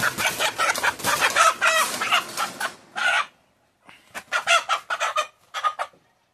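A country rooster clucks and crows in a series of loud, close bursts separated by brief pauses, with no voices over it.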